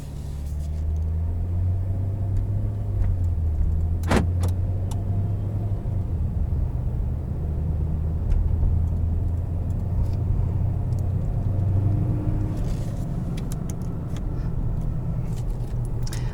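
2016 Ram 1500 Express pickup truck driving on the road, heard from inside the cab as a steady low engine and road rumble, with a brief sharp click early on and no talking.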